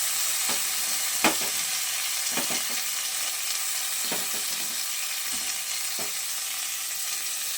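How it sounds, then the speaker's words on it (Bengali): Papaya pieces fry lightly in a pan with a steady, close sizzle, broken by several soft scraping stirs at irregular intervals. "আমি হালকা একটুখানি ভেজে নেবো পেঁপেটা"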